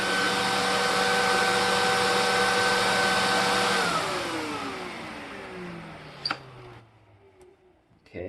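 Bosch Premium Electro Duo XXL vacuum cleaner with a green HEPA bag running at full suction, a loud steady whine with a tonal hum, then winding down in falling pitch to near silence, with a few clicks at the end.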